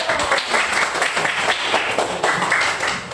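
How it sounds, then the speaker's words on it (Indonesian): A class of primary school children claps together in a classroom, loud, steady rhythmic clapping with pulsing beats throughout the short stretch. "Mari kita tepuk tangan dulu."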